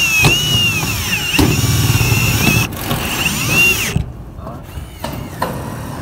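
A Milwaukee M18 cordless drill drives screws into sheet metal, whirring up to speed in several close, loud bursts with ratcheting clatter as each screw seats, then drops to quieter bangs and handling noise.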